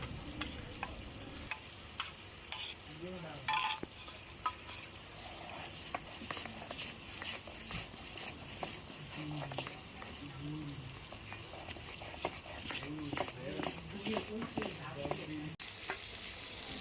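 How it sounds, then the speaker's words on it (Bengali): Pieces of gajar (snakehead) fish fry in a pan in a home kitchen, sizzling softly and continuously with scattered stirring clicks and scrapes, faint and close, with a few indistinct voices in the background. "আর আমি আরেকটা প্যানে মাছগুলি ভেজে নিচ্ছি"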